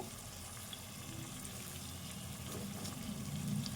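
Fish frying in a pan for a Telangana raw fish curry, a steady low sizzle that grows a little louder toward the end, with no talking.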